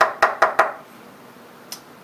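A regular knock on a locked door fitted with an Arduino secret-knock detecting lock: four sharp, evenly spaced raps close by, then silence and one faint tap.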